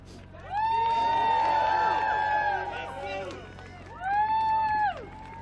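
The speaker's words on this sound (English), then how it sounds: "please just show her a round of applause for the courage" Crowd cheering and whooping, with loud shouted voices and a bright whistle-like whoop, swells for a survivor at the State of the Union, fades, then surges again briefly near the end.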